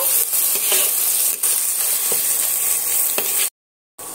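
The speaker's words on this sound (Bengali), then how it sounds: "এর মধ্যে আমি আদা রসুন বাটা দেবো হাফ চা চামচ, দিয়ে সমস্ত মশলা আমি কষিয়ে নেব।" Spices with ginger-garlic paste sizzle and fry in a pan for Bengali chicken kasha, a steady hiss broken by a few scraping stirs of a spatula, then a brief cut to silence near the end.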